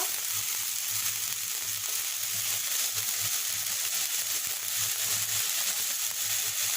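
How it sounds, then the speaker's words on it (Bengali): Banana stem fries with lentils, salt and turmeric in a pan, giving a continuous close sizzle with a low rhythmic hum beneath it and no talking. "এটাকে ভালোভাবে কষিয়ে নেব।"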